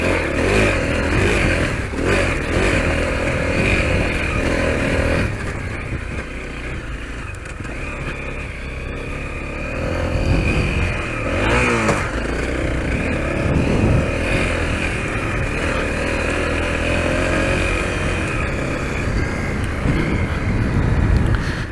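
A Honda CRF250L dirt bike rides off-road at Prairie City Off Highway Vehicle Park, its engine droning and rising and falling continuously with wind buffeting the microphone.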